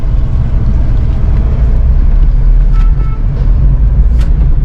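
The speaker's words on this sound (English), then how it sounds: "Continuous vehicles is coming from the opposite directions." Oncoming vehicles pass one after another on a road, making a steady loud rumble of engines and tyres heard from inside a car, with faint swishes as they go by.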